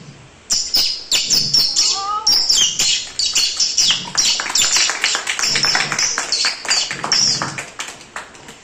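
A voice imitates a sparrow chirping at daybreak, delivering a rapid, lively string of high tweets and twitters that run almost continuously, close and loud, during a stand-up comedy performance.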